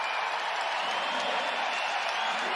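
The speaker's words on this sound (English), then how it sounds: "And this crowd comes to their feet." A college wrestling crowd at a Big Ten dual meet, Northwestern at Iowa, cheering and applauding in a steady, loud wash of clapping and roaring that fills the arena without pause.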